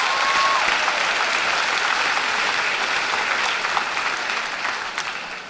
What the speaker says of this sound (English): Give our forensics team seniors a round of applause